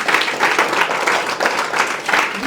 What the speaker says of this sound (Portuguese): Salva de palmas para a gente.